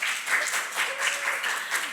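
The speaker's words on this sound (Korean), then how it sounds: "박수!" Applause from a church group, a short burst of many hands clapping in a steady, even patter at moderate volume, with no talk over it.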